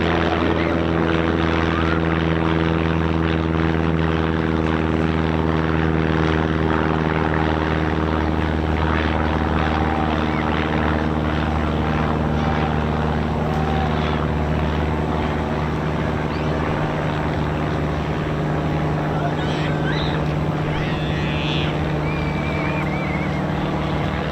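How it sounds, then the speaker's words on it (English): An aircraft flying past at the Eastbourne airshow, a continuous, fairly loud propeller-like drone that holds steady for the whole stretch, with no talking. "this aircraft really wants to be on the Ted Coningsby channel"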